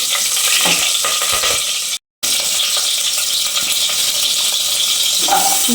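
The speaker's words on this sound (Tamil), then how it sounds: "ரெண்டு பச்சை மிளகா கீரி போட்டிருக்கேன் அதையும் தாளிச்சிக்கலாம்" Slit green chillies are tempered in hot oil, giving a loud, continuous sizzle with stirring scrapes close by, broken by a brief gap, with no talking.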